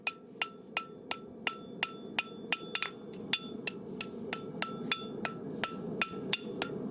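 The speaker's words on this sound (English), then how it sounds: "I'm drawing it out, but I'm also beveling the edges toward each other." A farrier hammers a handmade horseshoe on an anvil, drawing it out and beveling the edges, with sharp ringing metallic strikes in a steady rhythm of about three per second, fairly near.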